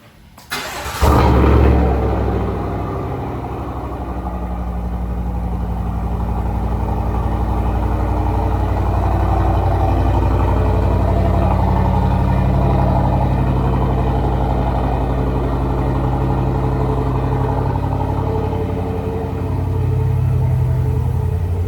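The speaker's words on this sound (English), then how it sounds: "I'll let you get a little bit of how that V8 sounds." A GMC Yukon AT4 V8 starts cold on a mild morning: a sharp crank and catch, a quick rev flare, then a deep, steady idle rumble that carries on alone for many seconds.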